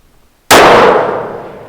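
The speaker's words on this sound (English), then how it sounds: "All right, I'm going to shoot it for about a" A single loud rifle shot from a TUBB adaptive target rifle fires after a brief quiet lead-in, its sharp crack trailing into a long rolling decay outdoors.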